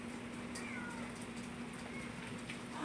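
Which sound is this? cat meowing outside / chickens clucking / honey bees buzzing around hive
cat meowing outside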